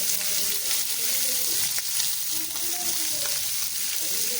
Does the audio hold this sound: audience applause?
no